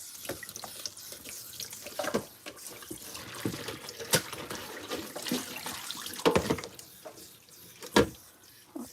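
Tap water runs into a container in a home kitchen, a steady rushing flow with occasional clinks and splashes of items being handled, close and moderately loud, with no talk.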